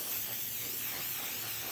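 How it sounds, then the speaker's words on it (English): A steady, close hiss of Mod Podge sealer spray on a DIY flower canvas craft project, continuous and alone without any talk. "then I take my podge spray. It's a sealer, but I spray it on"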